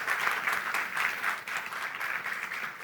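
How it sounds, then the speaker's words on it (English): An audience at a school competition applauds to welcome guests, a steady, dense wash of clapping throughout with no voices on top. "Can we have a big round of applause"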